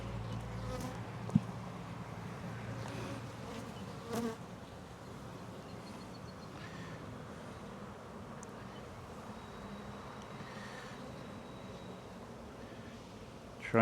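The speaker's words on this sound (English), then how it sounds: "It's absolutely packed with bees." Honeybees buzz densely in an open beehive, a continuous close drone with a few brief knocks and handling noises and no talk.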